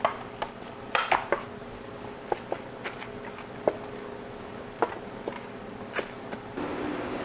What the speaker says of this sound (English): Grab that other half pan and a couple of the whole pans.